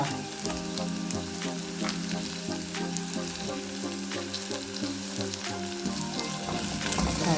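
Tomatoes hit a hot pan for a prawn curry, a loud continuous sizzle and crackle with stirring scrapes, close and steady for the whole stretch.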